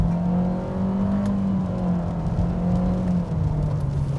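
A 2016-2018 Honda HR-V with a CVT accelerates under simulated paddle shifts, its engine drone steady inside the cabin with a slight pitch drop near the end, with no talking.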